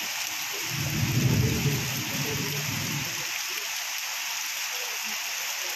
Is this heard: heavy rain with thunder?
yes